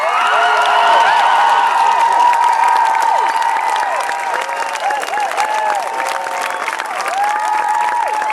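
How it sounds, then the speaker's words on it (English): An outdoor crowd applauding and cheering loudly, sustained clapping layered with high shouts and whoops, steady throughout with a slight dip midway. "So please, one last time, a big round of applause and give lots of love."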